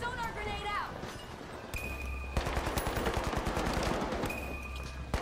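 Rapid gunfire in the first-person shooter The Finals, with a dense run of automatic shots through the middle stretch over game sounds and a voice talking throughout, together with tonal interface beeps near the start and end.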